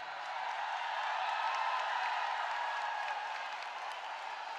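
A large audience at a women's political speech event in Kota Bharu gives sustained, even applause that sounds somewhat distant and soft. It forms a continuous wash with no break.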